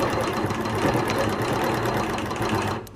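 A Q16 quilting machine running in a home studio, a close, steady mechanical whir with a rapid stitching rhythm for a few seconds before cutting off abruptly.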